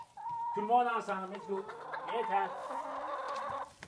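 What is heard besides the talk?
chickens clucking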